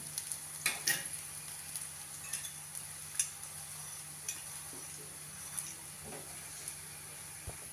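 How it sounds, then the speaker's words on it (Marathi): A paratha roasts with oil on a hot pan, giving a steady, soft sizzling hiss with scattered faint pops and ticks throughout. "पराठा आपला दोन्ही बाजूंनी छान भाजला गेलाय"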